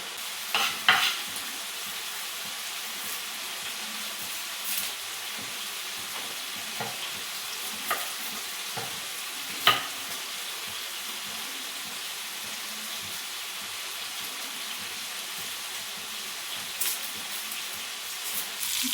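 Chicken shallow fries in a pan with a soft, continuous sizzle and crackle, broken by occasional louder pops and scrapes, quiet and steady with no talking.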